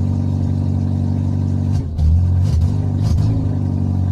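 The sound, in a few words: loud exhaust noise of engine running without silencer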